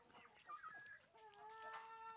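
Farm chickens squabble, with clucks and rising squawks from hens fighting among themselves, quiet and somewhat distant over a low background.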